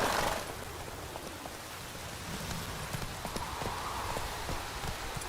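Roach the horse gallops in The Witcher 3, hooves clip-clopping in a steady rhythm over a wet, rain-like ambient hiss, moderately near and continuous throughout.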